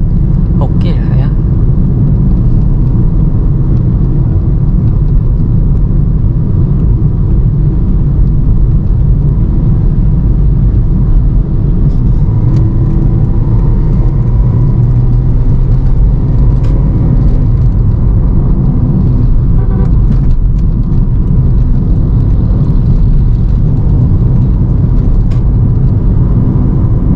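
A second-generation Toyota Vios climbs a steep mountain road near Cangar, Batu, in Drive. Its engine gives a loud, steady low drone and road rumble throughout, with a voice talking over it.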